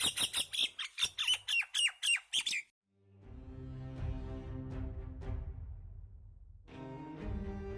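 A cartoon parrot squawks in a rapid burst of about ten sharp, shrill calls, then falls silent before a low musical backdrop swells in behind.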